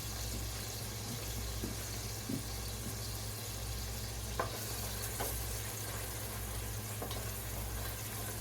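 Onions and garlic frying in a pan, giving a soft continuous sizzle with faint scattered pops and scrapes, close by and fairly quiet.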